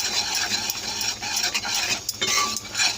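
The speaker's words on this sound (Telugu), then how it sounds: "అసలు గరిటె తిప్పడం అనేది ఆపకూడదనమాట, లేకపోతే ఉండలు చుట్టేస్తుంది" A ladle stirs gram flour into hot sugar syrup for Mysore Pak, giving a steady, close scraping and swishing against the pan with faint sizzling, continuous and with no talk.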